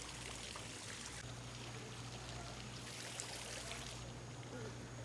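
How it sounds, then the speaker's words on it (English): A water fountain splashes at Port Orleans Riverside resort, Walt Disney World, in a continuous soft pouring trickle, faint and steady with a low background hum. "We just found the coolest water fountain."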